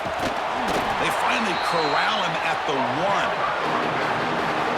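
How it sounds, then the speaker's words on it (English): A football stadium crowd roars steadily near the goal line at a Saturday night SFL Sea Dragons vs Fleet game, a dense wall of noise underneath a commentator's continuous play-by-play. "the crowd really making some noise now, trying to help out this defense to get this stop near the goal line"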